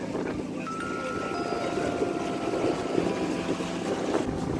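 A sailboat under way along the coast of St. Kitts, bound for Montserrat at about 8.5 knots, gives a steady rushing wash of water and wind close by, with a faint tonal whine running through it and no talk.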